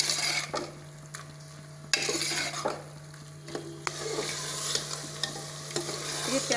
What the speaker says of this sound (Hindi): इसको हम थोड़ा सा भून लेते हैं मिक्स करके।